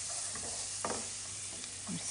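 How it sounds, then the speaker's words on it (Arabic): Green pepper sautéing with onion in a pan gives a steady, close hiss of frying, with a few soft stirring scrapes over the top. "برضو يتشوح هيك شوي مع البصل"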